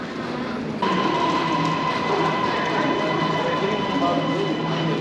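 An MRT metro train on the Putrajaya line makes a loud, steady rumble and hum at a station platform, with a sustained tone after it arrives.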